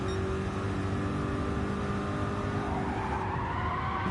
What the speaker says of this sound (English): Oh, Mutter goes off the track